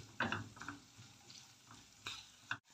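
A spoon scrapes and clinks around a pan as chicken seasoned with salt, black pepper and paprika is turned, a faint sizzle underneath and a few sharper knocks against the metal, quiet and close.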